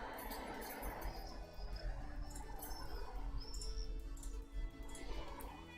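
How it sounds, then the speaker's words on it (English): Birdsong in Operation Flashpoint (OFP), a military video game: scattered chirps and tweets over a steady ambient background, moderately quiet and continuous throughout. "That's not monkey sound, these are birds."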